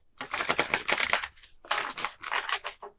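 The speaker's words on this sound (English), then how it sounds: "I shuffle a lot because I feel it's like stirring the cauldron" Tarot cards are shuffled by hand in close bursts of crisp riffling and rustling, two main flurries separated by a short pause, fairly quiet and without talk.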